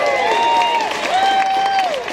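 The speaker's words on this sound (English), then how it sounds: "Give him a round of applause" Concert crowd noise from a rock show in Cleveland: a broad wash of clapping and cheering, with long, drawn-out whooping tones riding loudly over it.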